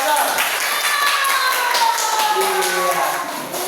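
Classroom clapping for a student group, a dense steady patter of hands that holds throughout, with children's voices and whistly chatter mixed in over it.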